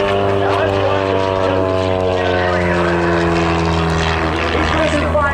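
Propeller aircraft flying an aerobatic loop at an EAA airshow, a loud buzzing engine drone with strong harmonic tones that shift in pitch as it climbs and turns, continuous throughout.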